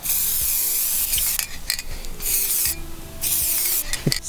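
Aerosol spray paint hissing onto a Warlord Titan model in several bursts. The long, loud hisses are broken by short pauses and come with faint handling noises nearby.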